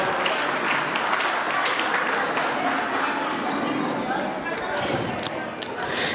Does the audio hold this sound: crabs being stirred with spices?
no